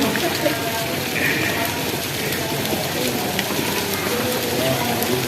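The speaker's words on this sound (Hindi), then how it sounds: "अभी भी बारिश जो है वो बरस रही है।" Heavy rain pouring steadily outdoors, a dense continuous wash of drops on surfaces, loud and close throughout.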